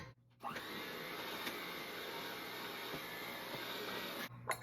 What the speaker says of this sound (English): I'm going to beat this together with my blender.